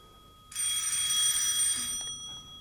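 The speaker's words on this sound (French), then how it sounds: "C'est encore cette vacherie de téléphone qui me réveille le lendemain matin." A bell-style telephone rings in a continuous bright metallic trill for about a second and a half, loud and close, then cuts off abruptly with a faint click, a sound effect in an old French radio drama.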